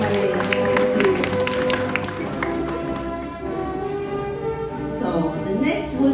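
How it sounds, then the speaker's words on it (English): A graduation crowd claps for a graduate, loud applause with cheering at first that thins into scattered claps under a sustained musical tone and some chatter. "a big applause for Jumalin"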